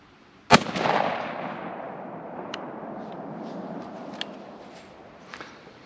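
A Winchester SX4 Waterfowl Hunter shotgun fires a single sharp, loud shot of BB load while patterning at 40 yards outdoors, followed by a rumbling echo that slowly fades, with faint clicks afterward.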